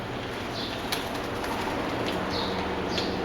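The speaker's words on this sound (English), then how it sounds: "Damn birds." Soft cooing from pigeons or doves repeats a few times over a steady background hiss, faint and somewhat distant, with no voices.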